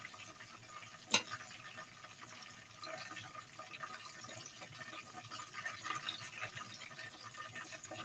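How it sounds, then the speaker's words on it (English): Water draining out of a bathtub, a faint continuous gurgling and trickling wash that holds steady for several seconds, with one brief sharp click near the start and no talk. "It sounds like water draining out of a bathtub."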